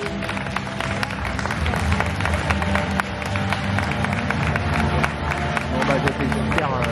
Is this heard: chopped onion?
no